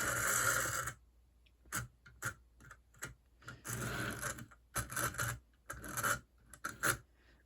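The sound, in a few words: HO scale Pennsylvania Railroad F7B model locomotive trying to run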